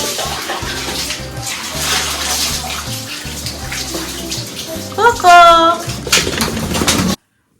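Splashing and running water as someone is bathed at home, with sloshing bursts and a voice partly over it, ending abruptly.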